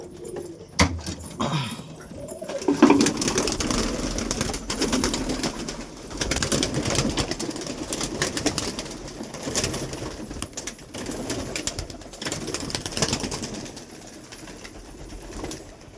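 Pigeons coo inside a pigeon house, soft low repeated calls from several birds layered over rustling and shuffling, with occasional louder knocks and movement nearby.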